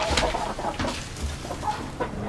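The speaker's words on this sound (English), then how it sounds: "I would like to talk about the chickens for a little bit." Several hens cluck softly inside a chicken coop bedded with pine shavings, their low, close, irregular calls overlapping over a steady background hum.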